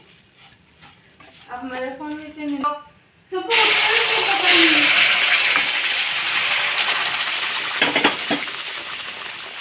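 Fresh grated coconut being stirred and fried in a pan for ghee bobbatlu, a steady close sizzle with scraping of the spoon, preceded by a dog's whimpering and speech before the frying begins.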